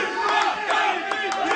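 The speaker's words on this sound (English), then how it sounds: "He loves his fans cheering for him, he always does." Fans in the crowd at a StarCraft 2 match between Feast and DIMAGA cheer and shout in a loud, rolling wash of voices, with a commentator talking over them.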